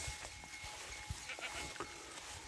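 Goats bleat near a small watering channel on a farm, several short calls rising over a steady outdoor background at moderate distance, with no talk.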